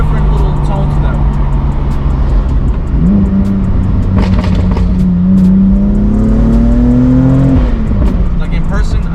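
A BMW M4 fitted with a titanium exhaust, set to Sport Plus, revs loudly up close, its pitch climbing steadily and holding high before dropping back, over a continuous engine drone.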